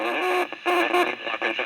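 An NEC pocket radio tuned to AM plays music loudly through its small speaker, a narrow, boxy tone with sustained notes broken by brief dropouts.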